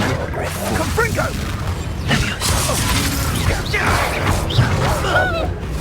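A Confringo fire spell explodes in the Hogwarts Legacy video game, with bursts of crashing, cracking blast effects among combat sounds while character voices shout over the action.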